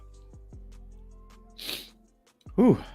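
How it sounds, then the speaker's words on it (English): A single sharp sneeze bursts out near the end, close and loud, preceded by a quick sharp inhale and faint breathy sounds. "Man, I got to sneeze."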